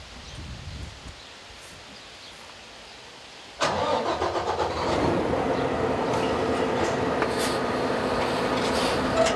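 A pickup truck pulls away from an ET fifth-wheel hitch after the trailer is unhitched; a quiet hum gives way to a sudden loud, steady rumble of the driving vehicle that stays close for the rest.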